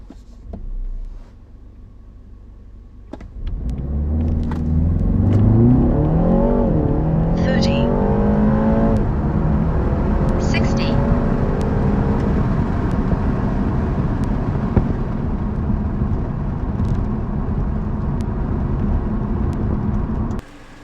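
A BMW G20 330i running E85 fuel with a JB+ tune accelerates hard from a standstill, the engine note rising steadily through the gears and holding a loud, sustained drone for most of the run.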